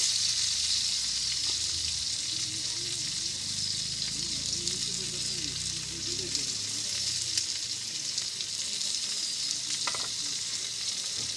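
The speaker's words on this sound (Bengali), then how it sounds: "এই তেল আছে তেলের মধ্যে দিয়ে দেবো। তো দিয়ে দিচ্ছি পেঁয়াজ" Onions hiss and sizzle steadily in hot oil in a village kitchen, a dense, close frying crackle that continues without a break, with faint stirring scrapes underneath.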